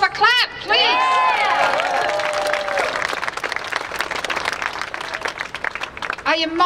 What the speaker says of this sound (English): Give yourself a clap, please.